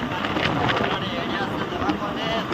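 Steady wind roar buffets the microphone while riding slowly on a motorbike to a hospital, a continuous broadband rush with no clear engine note, a voice briefly audible under it.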